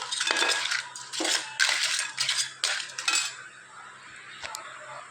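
Crab curry being stirred in a pan, with a metal spoon scraping and clinking against the pan in several close, uneven bursts that fade toward the end.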